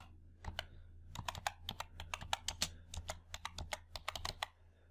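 Fingers typing on a computer keyboard to enter a sheet name in Excel, a quick irregular run of close, crisp key clicks over a faint low hum.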